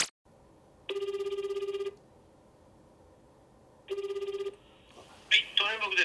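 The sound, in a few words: telephone ringing while calling a parent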